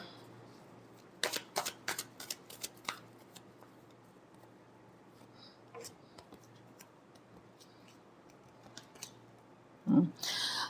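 Tarot cards are shuffled in a quick run of sharp, close clicks and snaps, followed by a few sparse taps and a brief louder rustle near the end.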